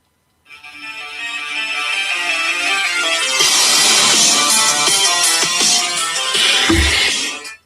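Loud phone ringtone plays a song, a steady wall of bright rock music starting after a short pause and running nearly to the end, with a low thump near the close.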